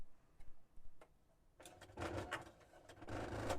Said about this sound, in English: I'm just going to do a straight stitch because we're a little short on thread.